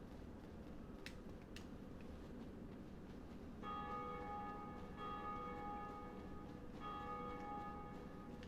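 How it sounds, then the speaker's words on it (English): Bell tolling in the Dark Souls video game, a series of clear metallic rings that start partway through and repeat, standing out over a steady low ambient background. "Someone else ringing the bell."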